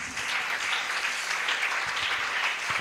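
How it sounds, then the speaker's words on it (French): A church congregation applauds at a worship service. The clapping is steady and dense, a sustained mass of hands from many people, loud and close throughout with no talking over it. "Can you put your hands together again for Jesus?"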